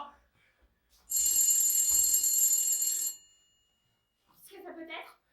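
A telephone bell in a stage play rings continuously for about two seconds, loud and sharp, then stops; a voice speaks briefly afterward.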